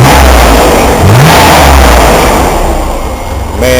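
A Corvair engine fitted with dual throttle-body EFI revs up loudly close by, swelling and dipping through a few throttle blips before settling toward a rougher idle near the end.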